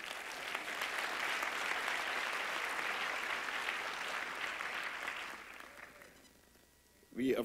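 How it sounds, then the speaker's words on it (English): A seated audience at a university convocation gives a warm, sustained round of applause for a university choir and orchestra. The clapping fades out near the end and a voice briefly picks up. "One more round of applause for the University Singers Orchestra and Dr. Norris."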